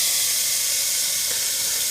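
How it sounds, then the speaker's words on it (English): Juices from a small whole packer brisket smoked in an Oklahoma Joe's Bronco sizzle with a steady, close, broadband hiss that holds evenly throughout, with no voices. "that sizzle."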